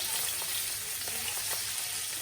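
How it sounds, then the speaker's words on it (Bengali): Fish frying hot in a pan in a home kitchen, a steady close hiss of sizzling oil with faint crackles throughout and no talk. "এই যে এখন মাছটা গরম গরম রান্না করি"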